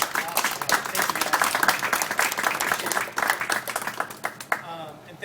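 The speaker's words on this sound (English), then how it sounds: "let's please give a round of applause to our speakers tonight" An audience at an evening travel talk applauds the speakers, steady dense clapping close by, filling the room for about five seconds before trailing off.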